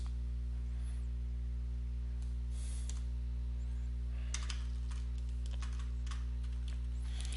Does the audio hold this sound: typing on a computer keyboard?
yes